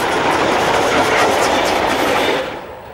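DB electric locomotive 160 003 runs light near Bad Reichenhall in the 1970s, a loud, steady rush of wheels and rail noise passing close by and then fading in the final half second.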